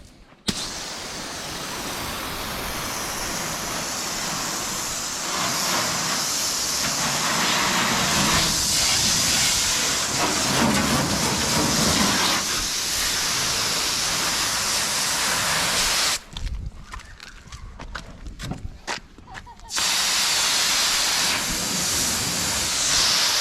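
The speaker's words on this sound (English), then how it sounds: "gonna give it a bath, hose it down" Steady, loud hissing spray from a garden hose rinsing a bodydropped Toyota mini truck, continuous and close, with a brief break near the end before the spray resumes.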